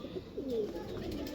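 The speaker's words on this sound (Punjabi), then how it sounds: "ਇਹ ਬੱਚੇ ਪਾਲਣ ਦੇ ਆ ਕਬੂਤਰ ਮੇਰੇ ਕੋਲ" Soft, low cooing of Jonsire pigeons kept for breeding, heard as one brief, faint call against a quiet background.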